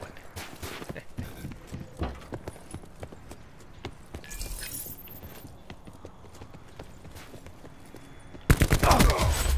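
Gunfire rings out in Call of Duty: Black Ops 4 as scattered sharp shots and footsteps crackle through the match, ending in a loud burst of rapid fire near the end.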